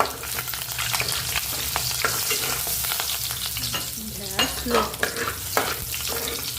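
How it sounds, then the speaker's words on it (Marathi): Garlic, curry leaves and cinnamon fry in hot oil in a pan while being stirred, giving a continuous close sizzle broken by scraping strokes that grow busier toward the end. "लसूण आपण याला हालून घेऊया आणि आपण टाकतो तर कढीपत्ता"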